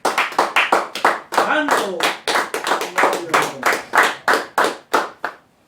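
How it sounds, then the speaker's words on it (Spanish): A church congregation claps in a loose, accelerating rhythm of sharp, close hand claps during a worship service, with a voice briefly calling out over the clapping. "Bríndale un aplauso al Señor Jesucristo."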